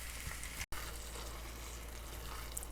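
Ground beef for chili fries in a pan with a steady, dense sizzle, continuous and moderately loud with a momentary dropout near the start.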